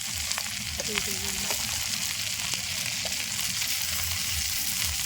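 Mustard oil bubbles and sizzles steadily in a pan, a continuous frying hiss with soft popping, fairly close.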